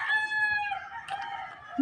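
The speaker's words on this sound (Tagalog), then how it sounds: "May manok doon, doy." A rooster crows once nearby, a drawn-out rising-and-falling call, with faint background noise around it.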